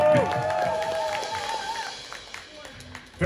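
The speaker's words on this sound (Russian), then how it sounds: "Ваши аплодисменты!" Audience applause and cheering at a rock concert in Moscow, a crowd clapping and calling out in a broad wash, with a sustained voice or tone rising above it early on before the noise thins out.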